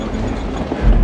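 A train runs along rails in a steady, rumbling roar with a faint rhythmic clatter, heard close and loud throughout, growing slightly heavier toward the end.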